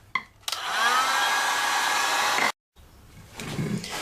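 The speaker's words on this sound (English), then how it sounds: "you can use a stovetop or one of these heat guns to heat up the top area that we just cut on this PVC" A handheld heat gun blows a steady, loud, close whoosh of hot air onto freshly cut PVC pipe for about two seconds, then cuts off abruptly, followed by quieter handling noise.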